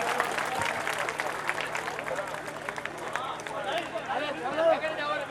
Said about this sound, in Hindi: जोरदार तालियों से स्वागत करो सर का